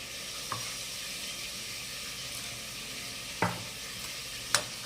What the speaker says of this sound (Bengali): এখানে কাশ্মীরি লঙ্কার গুঁড়ো এখানে জিরার গুঁড়ো হাফ চামচ নুন পরিমাণ মতন একটু জল দিয়ে গুলে নেব